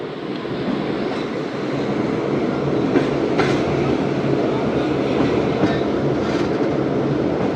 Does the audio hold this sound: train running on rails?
yes